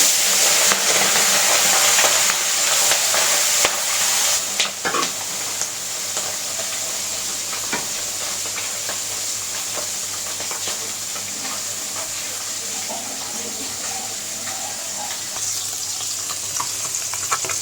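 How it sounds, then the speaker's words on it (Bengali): Fish dropped into hot oil sets off a loud, bright sizzle that spits hard at first, then settles into a steadier crackling fry with small pops and occasional scrapes. "তেল গরম হয়ে গেছে, মাছটা দিয়ে দিই।"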